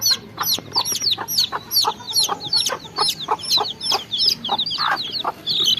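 Young native (desi) chickens cheep in rapid, repeated high-pitched peeps, several chicks calling close by in quick irregular bursts.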